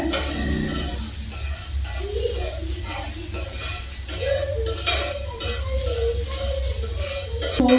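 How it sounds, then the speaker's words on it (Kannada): Onion frying in a pan with steady, continuous sizzling and occasional stirring scrapes, fairly loud and close throughout with no talking. "ಚೆಂದಾಗಿ ಫ್ರೈ ಮಾಡ್ಕೋಬೇಕು ಎಲ್ಲ ಕಡೆ"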